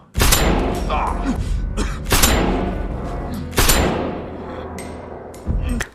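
Gunshots in a film scene ring out as four heavy, echoing blasts spaced a second or more apart, each decaying into a long reverberant tail.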